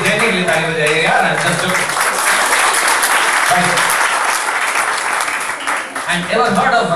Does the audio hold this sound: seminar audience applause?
yes